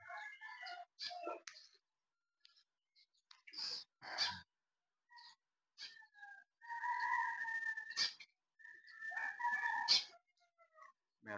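A bird calls again and again outdoors during rainy weather, the sounds resembling a rooster's crowing and clucking. The calls are short and scattered, fairly faint, with quiet gaps between them.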